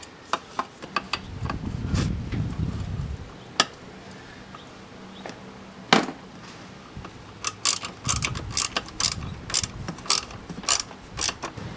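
A ratchet with extensions works a nut loose on a VW/Audi engine, giving bursts of quick, sharp clicking strokes separated by pauses, with occasional metallic knocks and low rumbling handling sounds nearby.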